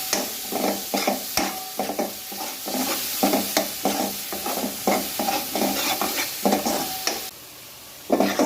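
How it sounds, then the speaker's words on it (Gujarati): Masala spices roast in oil for a peas curry, with a steady run of close scraping stirs and a soft sizzle in the pan, brief quiet moments between strokes, and no talking. "મસાલામાંથી તેલ ના છૂટવું પડે ત્યાં સુધી આને સરસ શેકાવા દઈએ આપણે"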